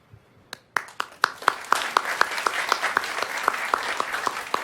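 A few people begin clapping, then settle into a steady, fairly close round of sharp individual claps that carries on evenly with no talk over it.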